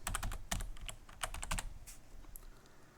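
Rapid, uneven keystrokes on a computer keyboard while a name, username and password are entered during an Ubuntu network installation; close, crisp clicks in quick bursts that thin out toward the end, with no talking.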